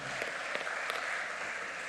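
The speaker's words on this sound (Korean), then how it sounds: "우리 찬양팀을 위해서 격려의 박수를 하겠습니다." Congregation clapping in encouragement for a church praise team, a short soft patter of many hands, faint and distant throughout.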